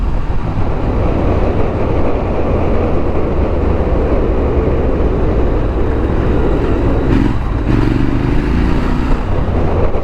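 A 2022 Triumph Scrambler 1200 XE being ridden over bumps, its engine a loud continuous rumble mixed with heavy wind roar throughout, with a brief shift in pitch near the end.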